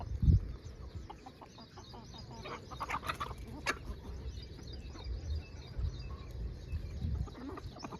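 Free-range village chickens cluck and scratch about in intermittent bursts, moderately close, with a sharp knock at the start and low handling noises between calls.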